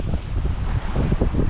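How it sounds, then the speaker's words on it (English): Breeze blowing across a sailboat in the Arctic Ocean during a bright night, a constant roaring rush of wind and microphone buffeting with low water noise beneath, loud and unbroken throughout. "And the breeze is filling back in again."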